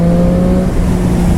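A 2015 Triumph Street Triple motorcycle engine hums while being ridden, a loud, steady engine tone that holds even for the whole short stretch.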